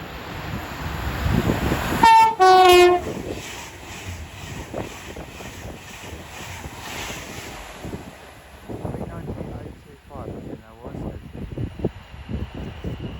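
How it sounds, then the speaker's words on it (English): An Avanti West Coast express from Glasgow Central to London Euston races through Watford Junction station on the West Coast Main Line, sounding a sharp two-tone horn before a loud rushing roar of carriages and wheel clatter, with wind buffeting. "Soon to pass through now will be Avanti West Coast going from Glasgow Central to London Euston."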